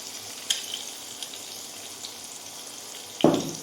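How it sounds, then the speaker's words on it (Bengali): Grated ginger and whole garam masala hit hot ghee and oil, giving a sudden loud sizzle near the end after a quiet stretch of faint background noise. "এই সেম তেলে দিয়ে দেবো কিছুটা গ্রেট করা আদা, দিয়ে দেবো গোটা গরম মশলা"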